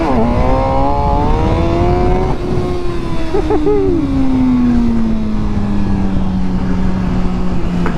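A motorcycle ridden on the road during a motovlog, its engine loud and close, pitch sliding up then gradually down as it accelerates and eases off, with wind noise throughout.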